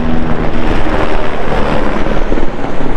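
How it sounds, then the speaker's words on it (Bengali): Loud, close helicopter drone with a throbbing rotor chop, holding steady throughout as it passes overhead on the Amarnath Yatra trail near Baltal base camp; no voices. "হেলিকপ্টার চলে যাচ্ছে"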